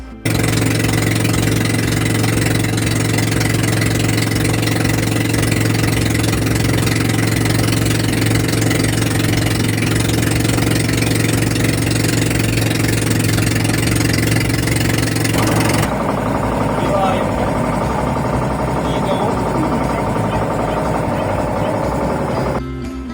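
Loud, steady motor drone of a boat engine running continuously, a deep rumble with a slight change in tone partway through.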